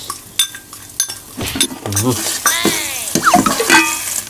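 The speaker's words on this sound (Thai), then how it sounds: "ใส่พริกกับกระเทียมโขกก่อน" Dried chili and pounded garlic stir-fried with instant noodles in hot oil in a wok, with metal utensils scraping and clanking against the pan over a light sizzle, close and fairly loud, with a voice speaking at times.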